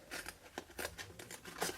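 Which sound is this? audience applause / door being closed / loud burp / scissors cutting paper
scissors cutting paper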